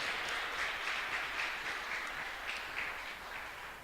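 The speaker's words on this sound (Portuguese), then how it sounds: "Você pode aplaudir o Senhor?" Steady applause from a congregation during a Holy Spirit seminar, fairly faint and distant, an even wash of clapping with a rhythmic quality that slowly tapers.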